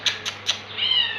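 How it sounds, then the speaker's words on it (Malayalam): A cat meows in a home kitchen: three short, close meows in quick succession followed by a longer drawn-out meow, with quiet background. "പൂച്ച സാറ് ഇവിടെ ഒന്ന് കിടപ്പുണ്ടേ."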